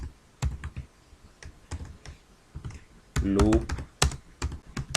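Typing a line of Python code on a computer keyboard produces quick, irregular clicks of keys close by, with a short burst of faster keystrokes near the end, while someone speaks briefly.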